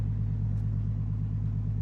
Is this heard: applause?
no